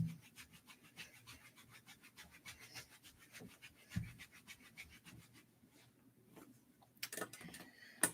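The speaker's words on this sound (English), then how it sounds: "scrubbing until your tailbone and that area in your lower back feels nice and toasty" Hands briskly scrubbing the lower back and tailbone during qigong self-massage, a faint rapid rhythmic rubbing and scratching on clothing, steady strokes with a few louder brushes near the end.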